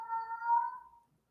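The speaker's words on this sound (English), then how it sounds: "You hear that? My cat." A single house cat meows once, a clear, fairly close drawn-out cry that trails off after about a second, with no talking over it.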